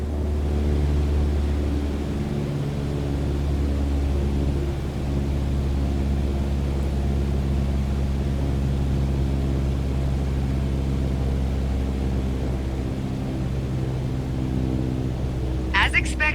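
Small propeller plane engine throttled back to about 1,800 RPM in Microsoft Flight Simulator 2020, a steady low droning hum with layered harmonics, continuous and even throughout, ending in a brief click.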